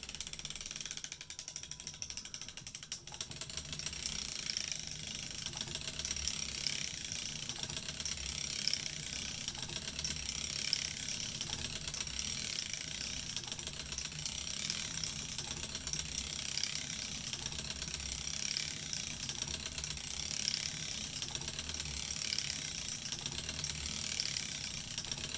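Hand-cranked circular sock machine knitting rows of pre-heel, giving a steady, continuous mechanical ratcheting and clicking with a dense even texture, close and alone throughout.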